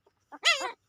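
A puppy gives one brief, high whimpering yelp, close and fairly soft, with a faint short whine before it and quiet afterward.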